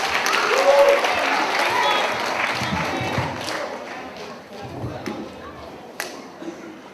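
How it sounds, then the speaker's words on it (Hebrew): Children and guests at a school bat mitzvah ceremony applaud the boys, the clapping strongest at first and fading out, with voices and scattered chatter heard throughout. "בבקשה, כפיים לבנים."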